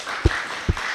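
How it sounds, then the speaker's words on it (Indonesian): Two quick claps, crisp and close, about half a second apart, rise briefly above a steady room hum as a welcome for SMK Kartini students. "Aplaus untuk SMK Kartini."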